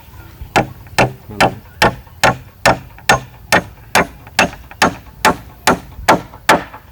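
Steady hammer blows on wood during house construction, about fourteen sharp, evenly spaced strikes close by, each one a crisp thwack with a short ring.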